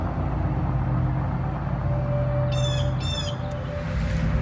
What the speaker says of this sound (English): hearing the birds chirp